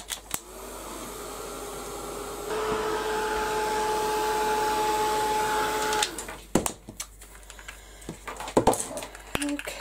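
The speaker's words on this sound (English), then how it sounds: "give this a quick, real quick blast with the heat gun, make sure it's all dry" A heat gun blasts steadily for several seconds to dry a mixed media butterfly frame, a loud continuous whooshing blow with a faint whine. It then cuts off, leaving scattered light clatter and handling knocks.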